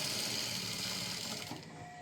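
A sewing machine runs steadily, stitching fabric at a half-inch seam allowance, a close whirring chatter that fades slightly before stopping near the end.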